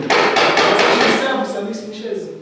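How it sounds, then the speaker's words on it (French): A wooden chair being knocked, several sharp, loud, hollow raps in quick succession that ring briefly and then die down. "Une chaise a un bruit particulier, lorsqu'on est dessus, lorsqu'on se trimballe,"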